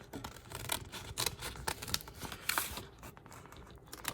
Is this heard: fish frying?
no